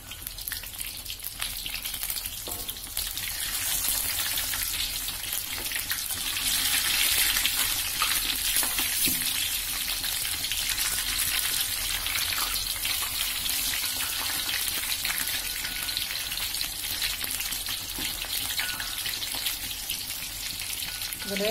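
Stuffed tofu fries in hot oil, a continuous soft sizzle and crackle that swells slightly partway through, with no voices.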